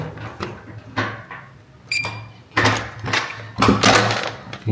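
Hotel room door being unlocked with a key, a string of close metallic clicks, rattles and clunks from the lock and handle, with brief sharp taps in between and no talking.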